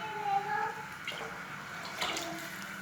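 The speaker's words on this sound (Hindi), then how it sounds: "और 1 लीटर पानी इसके अंदर और डाल दूँगी।" A steady stream of water pours into a pot of white chickpeas, a soft continuous rush with a faint tonal whine and a couple of brief splashy bursts.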